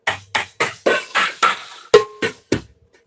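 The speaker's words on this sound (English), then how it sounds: "I have very short cymbal sounds." Short splash cymbals are struck one after another, about nine crisp bright hits in a steady rhythm, each choked off quickly with little ring, close and loud with no talk.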